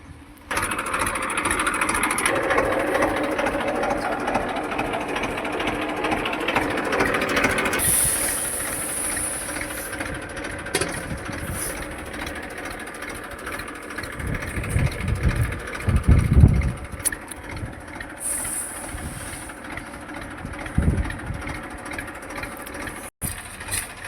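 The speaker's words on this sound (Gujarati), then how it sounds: "અમારી વાડીએ ટ્રેક્ટર આવી ગયું" A tractor's low engine rumbles and rattles continuously on a farm field while spreading fertilizer for wheat sowing, with a rhythmic clanking and a heavier surge of low throb midway, no voices present.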